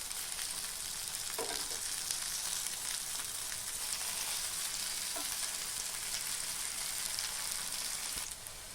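Wheat flour chapati pocket snacks sizzle steadily in hot oil, a dense continuous crackle with a few brief knocks as pieces are turned, no voices.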